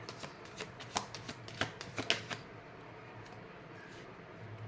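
Tarot cards are shuffled at a quiet table, giving a run of quick riffling flicks and soft taps through the first half, then fading to near silence with faint room hiss.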